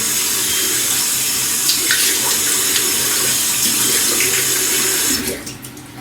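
Cold tap water runs steadily and loudly into a sink during a wet shave, a continuous close gush that cuts off near the end, leaving a few fading drips and trickles.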